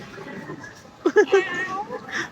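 A voice imitates a cat, giving a few short meows followed by a longer drawn-out meow.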